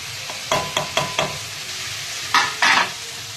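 Ground spices frying in a pan for cabbage chicken are stirred with a series of quick, close scraping strokes over a low sizzle, ending in two louder, longer scrapes.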